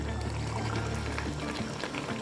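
Water pours steadily into a pot of beef paya (trotters curry) being cooked into broth, a continuous close splashing gush that holds at an even level throughout.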